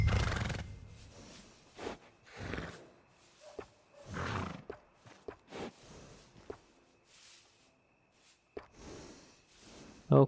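Neighing, snorting horse in Red Dead Redemption 2 at a stable, heard in several loud bursts with snorts and breathy sounds scattered between, sometimes separated by near silence, with no talking.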